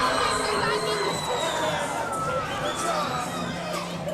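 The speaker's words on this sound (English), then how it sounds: "If you hear this crowd" Crowd at a cagefighting event cheering and shouting, a dense continuous roar of voices with whoops rising above it, with talk mixed in.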